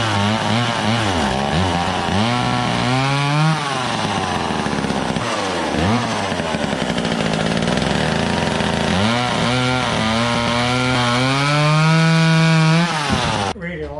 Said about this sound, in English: chainsaw works best.